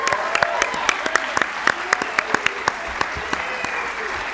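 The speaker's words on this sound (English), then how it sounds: "Let's give Tawnytown a round of applause." An audience at a 2018 business challenge event gives a round of applause, with sharp individual claps standing out over a steadier wash of clapping that lasts a few seconds.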